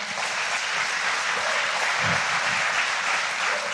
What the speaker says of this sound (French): Peux-tu donner l'applaudissement à Alex au son?